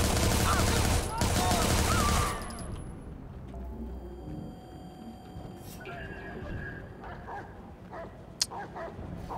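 Dog barking mixed with bursts of gunfire during a firefight in the video game Watch Dogs 2, loud and dense for the first two seconds, then thinning into scattered shots and game noise.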